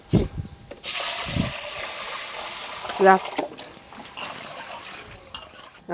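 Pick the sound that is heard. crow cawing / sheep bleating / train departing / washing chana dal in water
washing chana dal in water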